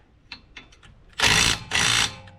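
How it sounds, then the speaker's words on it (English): An impact wrench tightens wheel adapter nuts on a Matrix XRS, firing two loud, close rattling bursts of about half a second each after a few light clicks. "we're gonna go ahead and hit this with the impact"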